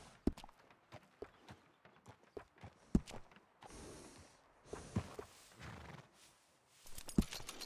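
Horse hooves clip-clop in the Red Dead Redemption 2 video game, four sharp, evenly spaced hoof strikes standing out over a busy, noisy game soundscape.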